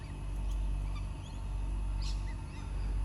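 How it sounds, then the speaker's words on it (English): Backyard chickens cluck and call faintly at a distance in a few short bursts over a steady low outdoor hum. "Go visit the chickens."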